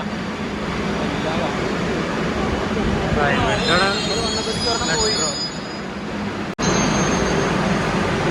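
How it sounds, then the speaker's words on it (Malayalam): A Kochi metro train rolls into an Ernakulam station with a rising wheel squeal and rumble, steady station noise around it, and people talking nearby. "മെട്രോ വന്നു കേട്ടോ"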